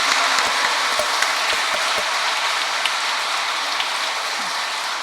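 A congregation in a Catholic church gives thanks with sustained applause during an evening Mass, a dense even wash of clapping from many hands that holds steady throughout.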